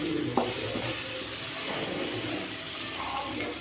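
Steady sizzling of spices in a frying pan with a spoon scraping and stirring through it, one sharp clink near the start, no voices.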